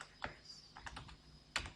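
Quiet, close keystrokes on a computer keyboard while text is entered in Photoshop. There are a few sparse taps with gaps between them and no talking.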